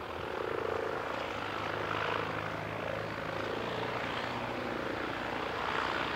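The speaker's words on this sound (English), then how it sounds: "There is a helicopter" A rescue helicopter flies overhead, its steady rotor and engine drone filling the whole stretch, continuous and fairly loud with a slight rise and fall as it passes.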